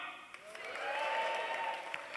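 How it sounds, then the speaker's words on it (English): Faint, distant applause from a comedy or talk audience, a soft wash of clapping under a low voice and a bit of room noise. "Tommy, round of applause to Tommy."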